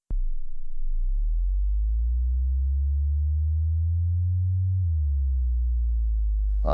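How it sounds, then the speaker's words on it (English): A Sequential Take 5 synthesizer plays one long 808-style sub bass note, deep and smooth, that holds and swells slightly before dropping in pitch near the end, loud and alone. "So you can still do those 808 boomy sort of subs."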